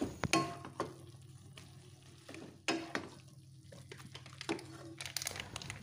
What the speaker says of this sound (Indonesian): tambahkan tempe yang sudah digoreng tadi, kemudian aduk-aduk hingga semuanya tercampur merata